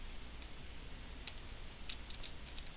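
Quiet, close taps on a computer keyboard as a function name is typed into an Excel cell, a short run of light clicks over faint room hiss.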